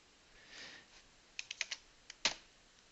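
Short bursts of typing on a computer keyboard while entering a search on a Windows PC, about half a dozen crisp, close key clicks clustered in the second half after a soft rustle, with no talking.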